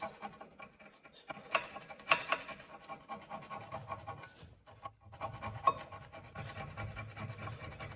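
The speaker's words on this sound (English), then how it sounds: "So I like to get a flathead screwdriver to clean it up nicely." A flathead screwdriver scraping rust and debris off the rear brake carrier of a Ford Kuga, giving repeated close, rough rasping strokes in an irregular rhythm, fairly quiet, with no talking.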